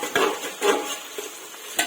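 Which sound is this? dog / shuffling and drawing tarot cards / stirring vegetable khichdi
stirring vegetable khichdi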